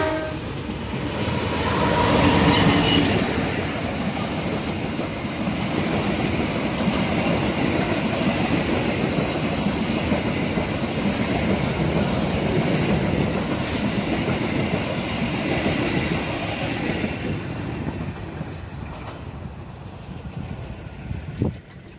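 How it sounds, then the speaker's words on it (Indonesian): A train rolls into Tanggung station in Indonesia with a loud, continuous rumble and rattle of wagons, a brief horn early on, and the noise easing off near the end. "Ini kebetulan ada kedatangan kereta,"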